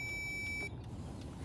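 A power probe touched to a vehicle ground point gives a steady high-pitched electronic buzz that confirms a good ground. The buzz lasts under a second and then cuts off, leaving a low background hum.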